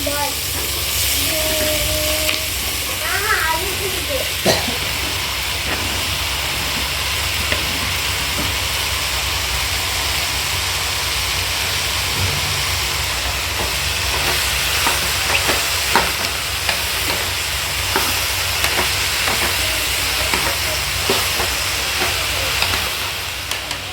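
Bottle gourd sautéing with tomatoes in a pressure cooker gives a steady, continuous sizzle and hiss throughout, with occasional stirring scrapes and clicks close by.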